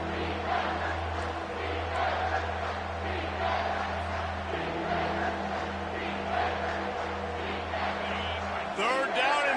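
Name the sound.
stadium crowd roaring in College Football 25 video game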